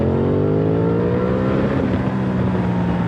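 Aprilia Tuono 660 Factory motorcycle pulling hard in second gear, a loud, steady engine roar whose pitch climbs smoothly as it accelerates, heard close up throughout.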